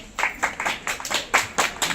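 A small group claps for Vikas at a local gathering, a few people striking their hands in uneven, slightly overlapping bursts of about eight or nine loose beats, close by and fairly quiet.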